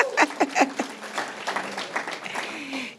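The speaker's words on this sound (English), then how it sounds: "Clap, clap." Guests at an awards luncheon break into a few scattered claps that grow into light applause, with people talking and chuckling over the clapping.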